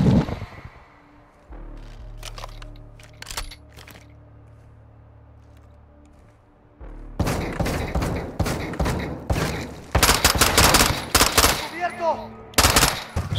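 Rapid machine-gun bursts and single gunshots from Call of Duty Modern Warfare 2 on PS5, sparse early then dense, loud volleys in the second half, with faint game voices in between.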